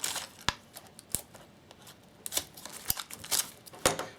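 Cellophane-like plastic coating being handled and peeled on a large damaged lithium-ion battery, giving quiet, scattered crinkles and sharp crackling snaps at irregular intervals with no talking.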